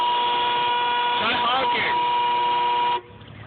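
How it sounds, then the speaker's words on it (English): A stuck car horn blares loud and steady with a sustained tone, a brief voice overlapping it midway, before the horn cuts off abruptly near the end. "honking"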